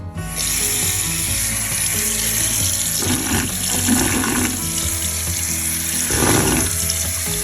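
Water runs from a tap in a New Zealand quarantine hotel room: a continuous splashing stream, close by, grows fuller in two surges as the flow changes, with a faint mechanical click and no one speaking.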